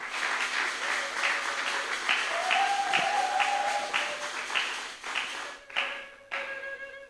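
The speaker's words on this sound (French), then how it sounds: "Il vient sous nos applaudissements." Audience applause welcoming pastor Daniel at an evening church gathering, a steady wash of clapping under a faint voice, thinning out toward the end.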